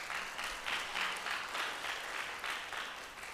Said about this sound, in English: he heard y'all clapping for him